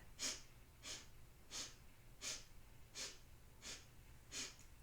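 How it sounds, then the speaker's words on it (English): A person doing stair-stepper breathing, drawing seven short, evenly spaced sniffing breaths in through the nose, soft and close in a quiet room. "Stair stepper breath. We're walking up a flight of stairs. 7 breaths in."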